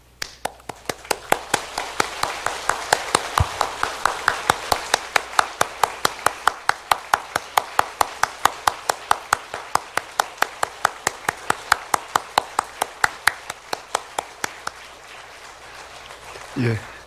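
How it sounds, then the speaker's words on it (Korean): A church congregation at Daegu Sangdong Church claps in congratulation as flowers and gifts are presented: crisp claps in steady unison rhythm, about three per second, sustained for roughly fifteen seconds before stopping abruptly into quiet room noise. "사랑과 축하의 박수로 함께 환영하도록 하겠습니다."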